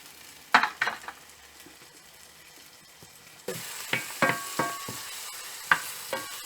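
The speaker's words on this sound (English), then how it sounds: "Just fry a bit the garlic" Garlic and oysters fry in a pan, a soft sizzle broken by sharp utensil clinks and scrapes; the frying grows louder partway through, with no talk.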